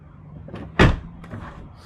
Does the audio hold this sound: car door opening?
yes